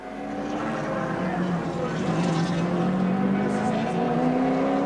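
Touring cars at Symmons Plains in the 1984 Australian Touring Car Championship round, including Dick Johnson's green Group C Ford Falcon, roar past steadily, with rising engine tones carrying loud throughout and a commentator's voice running over the noise.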